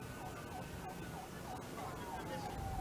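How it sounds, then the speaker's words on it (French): Sirens wail over steady traffic and crowd noise as a presidential motorcade moves through a festive national holiday parade in Guinea, the rising and falling tones fairly distant under the dense background roar. "Le cortège présidentiel avance au rythme des sirènes"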